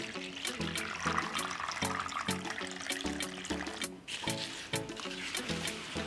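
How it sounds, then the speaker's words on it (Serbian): Clean water pours and splashes over fig leaves being rinsed, a continuous close liquid gush with rhythmic wet squishes and faint knocks, with no speech. "Preliću ih sa čistom vodom."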